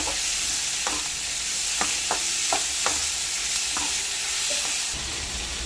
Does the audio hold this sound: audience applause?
no